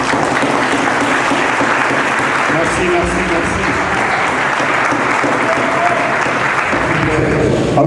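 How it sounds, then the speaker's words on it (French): Steady, dense applause from a sizable audience at a political gathering fills the whole stretch, with a brief spoken word near the start. "Avec des applaudissements évidemment."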